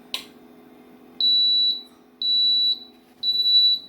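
A Nostalgia egg cooker sounds its done alert: three loud, piercing, steady beeps, each about half a second long and evenly spaced, following a small click.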